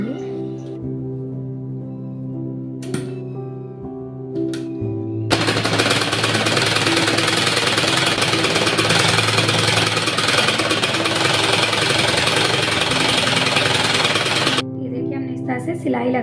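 A sewing machine runs a long continuous burst of rapid stitching on a shirt collar, loud and close, with a speaking voice and brief clicks before and after the run.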